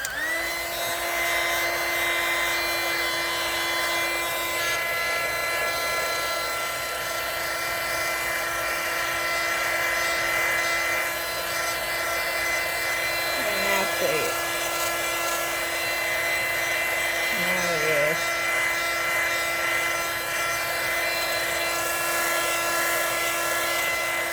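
A heat tool blows hot air onto craft material, a steady loud whirring hiss with a high motor whine that runs unbroken throughout, with a couple of brief pitch wobbles partway through.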